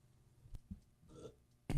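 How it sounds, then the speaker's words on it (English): A muffled belch smothered by a thud against a microphone, a short dull knock followed by a louder low burst at the end, close and brief. "I've been instructed by some listeners not to belch, so I had to hit the mic."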